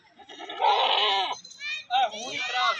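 Goats on a livestock farm bleat close by, two long wavering cries with a short break between, loud and nasal, with talk in the background.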